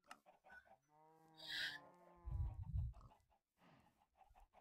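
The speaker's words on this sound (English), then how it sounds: "So many chickens." Chickens clucking in the Minecraft video game, a few short clucks and squawks with a rising tonal call in the middle, heard alone and close with no talking.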